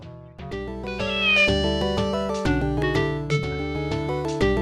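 A cat meows in the SNES game SimAnt, with drawn-out meows and caterwauling layered over loud, rhythmic chiptune game music.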